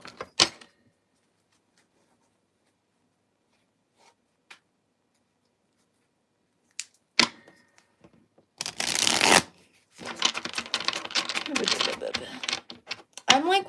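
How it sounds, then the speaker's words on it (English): Tarot cards shuffled by hand in a crisp, close riffling run lasting several seconds, following a few isolated taps and handling sounds amid near silence. "I'm gonna pull some tarot cards"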